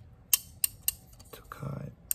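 Small metal scissors among jewellery-making tools click sharply in four or five crisp snips spaced across the moment, close and quiet, with a soft rustle of handling between them.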